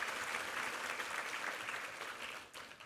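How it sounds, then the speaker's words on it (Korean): Applause from a Korean church congregation at a Sunday service, thanking a chamber trio of flute, cello and piano, rises as a dense, full wash of clapping that fades slightly toward the end. "우리 챔버 트리오에게 감사의 박수 한번 드리겠습니다."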